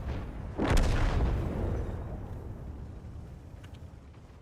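A single heavy blast booms out in a video game shootout, followed by a long rumbling decay that fades slowly, with no voices over it.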